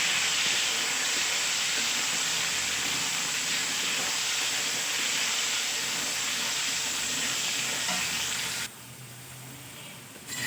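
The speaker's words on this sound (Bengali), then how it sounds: "আলুগুলোকে আমি লাল লাল করে ভেজে নেব" Potatoes frying in oil with salt and turmeric, a loud continuous hiss and sizzle heard close for several seconds before dropping abruptly to a quieter, softer frying sound near the end; no voices.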